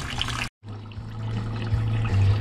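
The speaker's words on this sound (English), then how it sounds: "I'm gonna now add in the Barnacle Buster" Barnacle Buster cleaner is poured into the flush water for a Westerbeke generator's heat exchanger, a close, steady liquid pouring and trickling that briefly cuts out, then resumes against a low hum.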